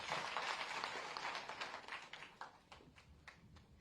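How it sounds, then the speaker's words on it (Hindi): Audience applause at a heritage centre inauguration in Aligarh greets a minister, with dense clapping at first that thins to scattered, fading claps. "एक बार जोरदार तालियों के साथ"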